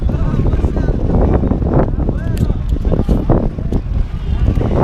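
A fibreglass speedboat on a tour passes on open water, with rushing wind and water noise, close and loud, and voices mixed in.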